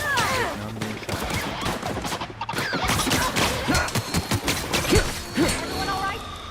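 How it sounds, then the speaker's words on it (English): Rapid gunfire strikes the player in the video game The Outer Worlds. Dense, loud bursts of shots and impacts continue throughout amid game noise, with voices mixed in. "Now I'm being shot."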